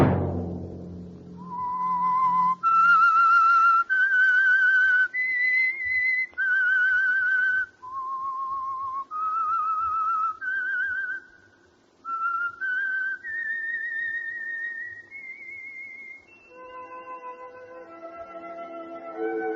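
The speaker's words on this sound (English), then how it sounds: "Let that whistle be your signal for the Signal Oil program, The Whistler." The signature theme of The Whistler radio mystery program: a lone human whistling a slow, eerie melody of sustained notes with brief gaps, clear and close, unaccompanied apart from a faint low hum beneath.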